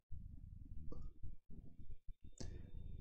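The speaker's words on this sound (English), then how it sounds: "Then I'll click on my OK." A single computer mouse click on an OK button during photo editing software work, a brief close click set among low, rumbling background noise.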